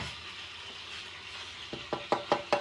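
Stuffed bread rolls filled with chicken and cheese fry in a hot pan while being pressed down: a steady low sizzle, then four or five sharp crackling bursts close up near the end.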